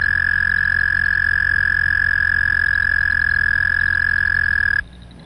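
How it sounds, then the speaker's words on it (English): A toad calling with a loud, explosive trill, one sustained high buzzing pulse train that holds steady and close for nearly five seconds before stopping abruptly, with no talking. "this has a more typical like call, which is a loud, explosive trill, but it's pretty short by toad standards"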